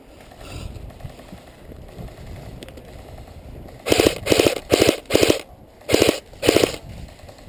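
Airsoft guns fire outdoors on a field, with quiet background until a series of six sharp bursts of rapid automatic fire, each a short rattling string of shots.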